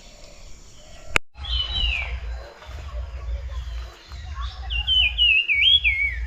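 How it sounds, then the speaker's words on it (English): A puff-throated babbler calls loudly from bush and trees at Satkosia, Chhotkei Nature Camp, its clear whistled phrases rising and falling, with a sharp click near the start and low rumbling background throughout. "Puff-throated babbler was calling loudly,"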